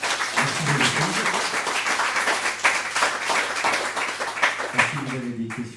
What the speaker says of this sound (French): Et ben on peut applaudir Joséphine.